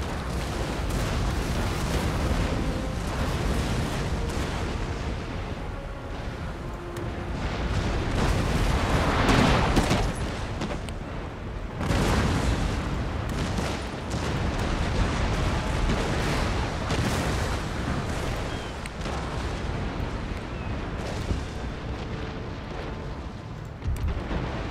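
Naval cannon fire in the Empire Total War game, with dense, overlapping booms rolling out continuously during a ship battle and loud surges of broadside volleys against a constant rumbling wash.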